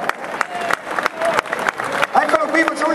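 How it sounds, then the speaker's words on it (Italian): Audience applause at a rugby club's team presentation in San Donà, a steady wash of clapping from a hall crowd, mixed with a tonal voice or music over the top. "Iniziamo con un applauso a questo momento."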